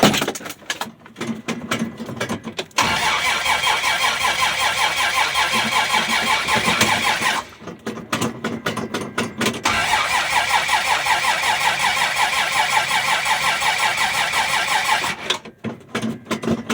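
Cold start of a 1965 Dodge Dart with a Slant 6 engine and the choke wide open: repeated starter cranking, then the engine catches into a loud, steady mid-pitched idle, then cranks and runs again.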